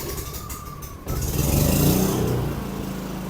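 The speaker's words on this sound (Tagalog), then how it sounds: "Magsasalita po ako samantalang umaandar ang generator." An Alen inverter generator engine runs steadily after a brief quieter start, a loud broadband motor drone with rumbling low tones close by.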